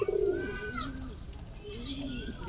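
Domestic pigeons of the Bombay breed in a breeding loft coo in low repeated phrases, with other birds chirping faintly in the background and a light room hum.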